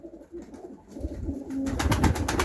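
Soft throaty cooing of pigeons nearby, a few rolling calls building up in the second half against a quiet room.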